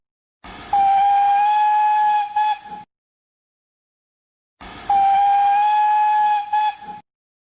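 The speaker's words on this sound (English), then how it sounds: "Then he heard a whistle." A steam train whistle blows twice, each a long, loud, tonal blast of about two seconds with a brief wavering dip near its end, separated by a few seconds of silence.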